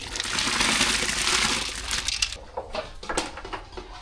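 Water boils in a pot on the stove for sambar rice, a dense close bubbling hiss that fades and thins into scattered pops and sputters.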